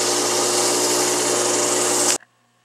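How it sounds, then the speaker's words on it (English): A drill press spins model train wheels against sandpaper for polishing, whirring loudly and continuously with a gritty sanding rasp, then cuts off abruptly into near silence. "I put them into the drill press and then start that up and give them a final polishing with sandpaper"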